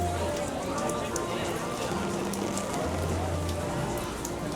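Steady rain falls at Disneyland outdoors, a continuous soft patter on surfaces throughout, with faint background crowd voices and occasional tonal hums underneath.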